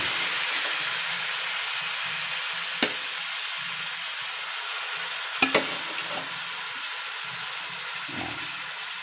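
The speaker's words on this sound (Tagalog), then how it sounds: "Matapos nating igisa ang garlic and onion, ilalagay ko na itong mga pinalambot kong buto-buto." Tenderized pork ribs added to sautéed garlic and onion for pork caldereta, a steady close sizzle and frying hiss with a few sharp clacks from stirring, no talk.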